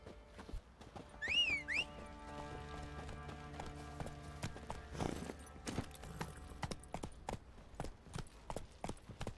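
Horse trotting in The Witcher 3: Wild Hunt, a rapid run of clip-clop hoofbeats that carries on steadily at moderate loudness, with a brief whistle near the start and game music underneath.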